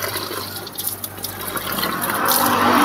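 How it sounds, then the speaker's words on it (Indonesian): Water poured from a container onto a potted bougainvillea before repotting, a loud continuous splashing gush that swells and thickens toward the end. "Kita siram kocor dulu sebelum dipindahkan ke tempat yang pas."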